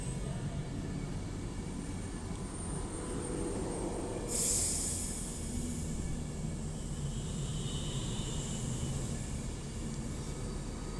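A London Northwestern Railway train at Crewe station on the West Coast Main Line: a steady rumble of rail noise and idling, with a brief loud hiss or squeal burst partway through, continuous and fairly close, no talk.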